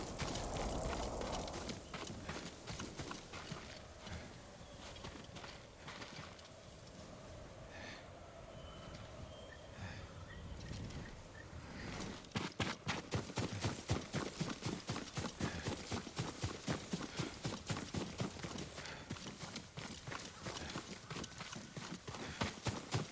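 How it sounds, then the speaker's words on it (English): Horse hooves in the game Ghost of Tsushima, beginning with breathy snorts and soft movement, then a steady rhythmic clip-clop of trotting that grows louder and continues to the end, with no talking. "Yuriko's horse."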